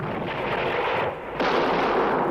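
Heavy cannon and artillery fire roars without a break as a battle sound effect, a dense rumbling barrage that dips briefly and then surges back louder.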